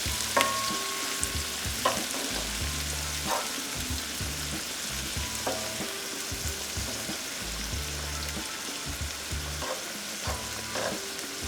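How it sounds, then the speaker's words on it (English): Vodka pasta sauce base with soft garlic simmering and sizzling steadily in a pan, with a spoon scraping and stirring in rhythmic bursts throughout, close and fairly loud. "We're gonna let this simmer for about a minute."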